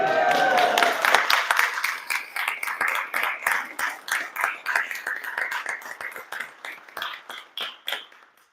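An indoor audience at a housing and homelessness bill signing ceremony applauds steadily, a dense patter of clapping that carries on and gradually thins out.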